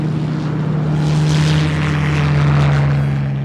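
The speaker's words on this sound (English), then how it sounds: "the Danes were inspired by the Mosquito Raiders and the sound of their Merlin engines" Mosquito aircraft with Merlin engines droning steadily, a loud continuous low hum with a strong tonal band, holding evenly throughout with no voices.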